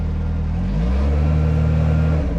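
A brand-new Kawasaki Teryx5 H2 side-by-side with a CVT pulls in high gear, its engine a steady, close droning hum that rises smoothly in pitch, with no talk over it.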